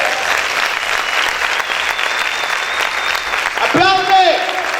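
A church congregation claps loudly and steadily for several seconds, a dense wash of applause, while a voice calls out over it near the end.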